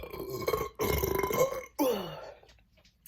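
Two long, deep, gravelly burps follow a drink of Diet Pepsi, one right after the other, loud and close, then fading into near silence.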